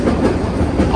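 A heritage train at a railway museum rolls along the rails through the yard, a steady close rumble with rhythmic clickety-clack from the wheels.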